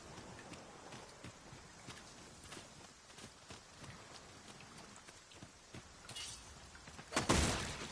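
Rain falls in the Dragon's Dogma 2 video game, a faint steady patter broken by scattered taps and footstep-like thuds, with a louder rustling burst near the end.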